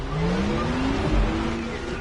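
A Porsche Taycan Turbo S accelerates in The Crew Motorfest video game, a loud, close electric whine that climbs steadily in pitch over a rumbling road noise.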